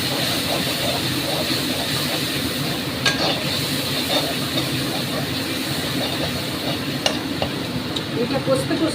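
Bottle gourd curry stir-fries in a pan with asafoetida and ginger water, giving a loud, continuous sizzle with scraping from the spoon and occasional clatter, with no voices.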